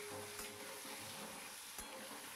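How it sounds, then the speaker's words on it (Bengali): Diced potatoes with salt and turmeric tossed in hot oil, a faint continuous sizzle with a couple of soft stirring knocks against the pan. "নুন হলুদ দিয়ে ভালো করে ওপর নিচ করে নাড়িয়ে চাড়িয়ে নিতে হবে"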